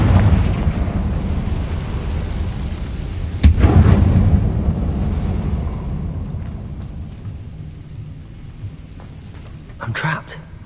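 A Confringo blasting spell in Hogwarts Legacy erupts as a sudden sharp explosion with a rumbling tail over a low ambient wash, followed by a quieter stretch and a second smaller burst near the end.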